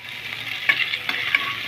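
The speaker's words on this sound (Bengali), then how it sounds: "ভিনিগার দিয়ে আর একটু কষতে থাকবে, যাতে চিলি ফ্লেক্সের কাঁচা চিলি ফ্লেক্সের গন্ধ চলে যায়।" Chili sauce with vinegar frying in a pan while being stirred, giving a steady close hiss with a few brief scraping strokes, no voices.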